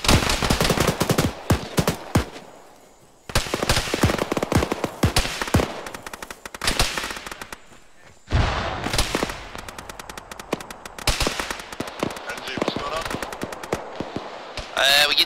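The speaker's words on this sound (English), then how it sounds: "Shot at from all sides." Heavy gunfire rains in from all sides in the Arma 3 military game: dense machine-gun bursts and rapid rifle shots, loud and near, broken by brief lulls, with voices talking over the shooting.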